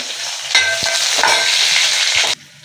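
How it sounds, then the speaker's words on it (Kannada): Pieces of fish frying in hot oil for fish sambar, a loud close dense sizzle that starts abruptly, holds steady for about two seconds with a few stirring knocks, then cuts off. "ಕಟ್ ಮಾಡಿಟ್ಟಿದ್ನಲ್ಲ ಇದನ್ನು ಫ್ರೈ ಮಾಡ್ಕೊತೀನಿ ಸ್ವಲ್ಪ ಚೆನ್ನಾಗಿರುತ್ತೆ"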